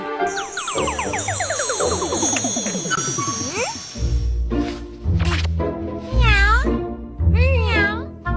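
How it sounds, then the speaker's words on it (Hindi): A cat meows repeatedly, several drawn-out, wavering meows up close, with brief voices and clattering sounds mixed in. "बिल्ली बिल्ली।"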